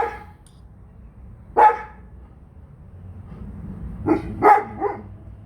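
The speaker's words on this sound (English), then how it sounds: "the dog is driving me nuts" A dog barks in separate bursts, one sharp bark followed by a closer cluster of several barks, over a quiet room with low background hum.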